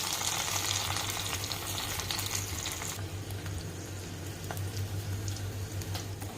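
Ginger, garlic and green chili frying in hot ghee, a steady close sizzle with faint crackles that holds for several seconds, a little brighter at the start.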